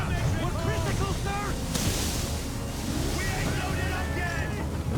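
Ocean waves surge and wash continuously in the Assassin's Creed 3 video game, a steady roaring swell with wind, while someone talks over the game's background sound.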